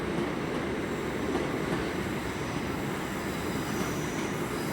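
Class 800 trains at London Paddington hum and rumble steadily at moderate distance under the station's ambient wash, with no voices.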